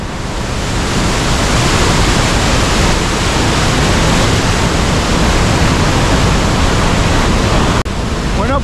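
A swollen river rushing at full force, a loud, dense, continuous roar of turbulent water close by, with a brief knock near the end.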